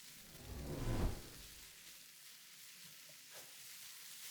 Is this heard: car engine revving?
no